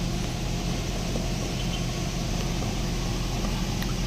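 Honda City engine with an ETCS control relay fault and check-engine light, revving weakly and capping near 2,500 RPM; a steady, loud, continuous engine drone with no speech.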